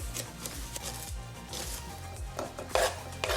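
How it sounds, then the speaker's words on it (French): A knife finely slices leek on a cutting board for takoyaki, a quick steady run of close, soft chopping taps. "il me reste plus qu'à préparer le poireau et à l'émincer finement"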